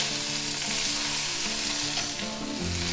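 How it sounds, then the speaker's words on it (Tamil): Cumin, onion, curry leaves, a bajji chilli and coriander sautéing in oil, a strong continuous sizzle with faint stirring throughout. "சீரகம், வெங்காயம், ஒரு கொஞ்சம் கருவேப்பிலை, பஜ்ஜி மிளகா ஒன்று, கொஞ்சம் கொத்தமல்லி எல்லாத்தையும் சேர்த்து வதக்கிக்கலாம்."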